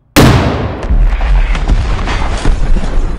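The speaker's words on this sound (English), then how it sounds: "we used half a pound of RDX" Half a pound of RDX detonates in a single sudden, very loud blast. A long rumbling roar and crackling debris follow and stay strong to the end.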